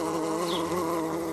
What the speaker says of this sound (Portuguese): essa tá cheia de abelhas